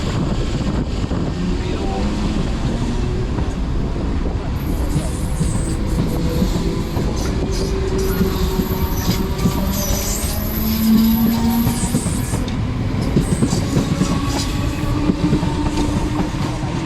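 A Merseyrail Class 507 electric train pulls away from a station, a loud continuous rumble with rail clatter and wind buffeting the microphone throughout, and a faint high whine partway through.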